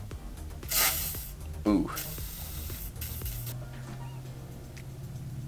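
Two short bursts of WD-40 spray hiss into a hole on a homemade log splitter, each lasting under a second, followed by a quieter low hum and a brief voiced exclamation.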